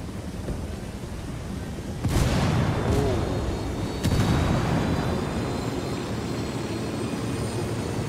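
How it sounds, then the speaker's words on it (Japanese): A boat blows up in Ghost Recon Wildlands, two loud booming blasts over a constant roaring rumble of engines and wind, with voices under the din. "急げ、爆発するぞ"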